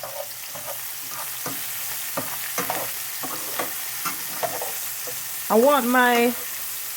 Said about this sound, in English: now we're gonna saute our garlic, our ginger, our chili peppers, and our onions